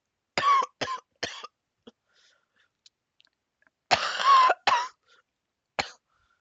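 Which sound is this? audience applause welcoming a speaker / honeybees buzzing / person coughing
person coughing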